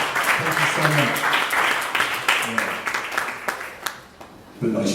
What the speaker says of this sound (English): A nice round of applause for Michelle for all the work that she's been putting in today